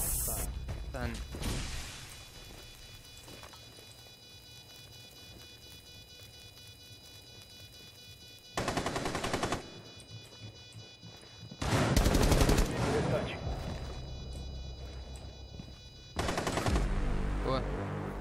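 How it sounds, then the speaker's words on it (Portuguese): Machine gun fire from the game Rainbow Six Siege comes in loud, rapid bursts, at the start and in three later volleys, with talk heard between them. "Atirando, não dá pra continuar atirando, não."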